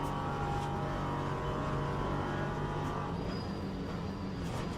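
An LMP3 prototype race car at Monza, its engine a steady mid-distance drone with a sustained tone that swells slightly, heard alone without talk.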